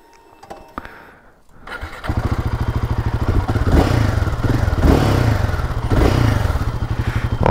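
A Royal Enfield Himalayan 450 motorcycle is started close by with a few clicks and a thump. The engine catches and settles into a loud, pulsing idle with a couple of brief blips of revs.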